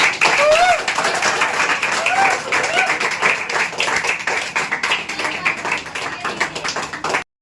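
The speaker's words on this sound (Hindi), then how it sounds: "तालियां हो जाए भाई के लिए" Classroom applause for a student's science presentation on circulation, steady crowd clapping throughout with voices mixed in.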